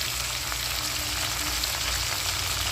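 Turmeric, cumin and coriander powders fry hard in hot oil in a pan for a Bengali bitter gourd dish, giving a dense, steady close sizzle with no talk.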